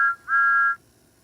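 A steam locomotive whistle in a railway video game gives two short, clean high toots, the first brief and the second held for about half a second, close and alone with no talking.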